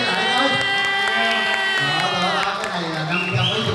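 A crowd of several hundred at a live comedy show in Southern California cheers, claps and whoops continuously, loud and close, while a voice talks over the noise.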